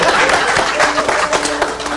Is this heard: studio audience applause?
yes